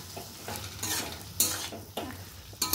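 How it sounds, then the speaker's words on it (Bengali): Potatoes frying in mustard oil are stirred in a pan, giving repeated scraping strokes over a soft, continuous sizzle, with no voices. "একটুখানি নেড়ে নিই যাতে সর্ষের তেলের কাঁচা গন্ধটা চলে যায়"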